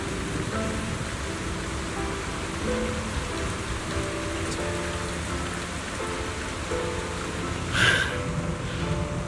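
Steady rain pours in the video game Zenless Zone Zero, a dense continuous hiss over low music, with one brief louder splash near the end.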